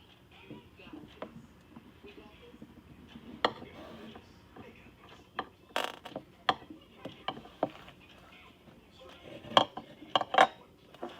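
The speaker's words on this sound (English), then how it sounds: "I'm gonna cut the rest of this bagel in strips." A knife slices a Nutella-spread bagel into strips on a board, giving scattered sharp clicks and taps of the blade against the surface at close range. The strikes are irregular and cluster more densely toward the end.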